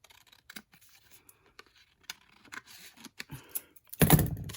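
Scissors cutting through patterned craft paper from a 6x6 pad, a series of soft, close snips and rustles at irregular intervals, ending in a louder burst of crinkling paper handling.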